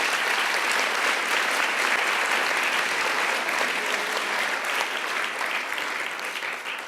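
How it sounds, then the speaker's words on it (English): Teams at a SensUs 2017 keynote event receive a loud, sustained round of applause. The dense clapping fills the room for about seven seconds and thins slightly at the end. "you should give yourselves a round of applause"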